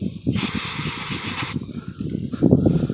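Aerosol spray hisses steadily for about a second into a Briggs & Stratton engine that won't start, one continuous burst over background clatter and low rumble, then it stops.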